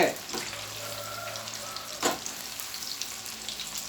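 Pieces of chilli chicken 65 fry in hot oil in a home kitchen, giving a steady close sizzle with a few louder bursts and stirring scrapes.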